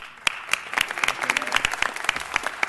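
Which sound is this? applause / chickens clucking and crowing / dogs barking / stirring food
applause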